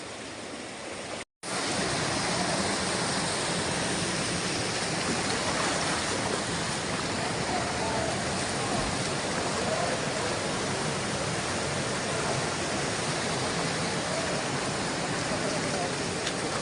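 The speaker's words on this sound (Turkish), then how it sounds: "Şu şelalenin dibinde bir havuz var." A waterfall in a canyon roars steadily into a pool at its base, a dense, continuous rush of water heard up close and loud throughout after a brief dropout near the start.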